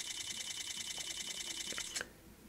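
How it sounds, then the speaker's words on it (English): An iPhone camera shutter fires in a rapid burst of clicks, a steady fast rattle for about two seconds that stops abruptly, close and fairly quiet. "Let's go ahead and see if we can take pictures here at a rapid speed."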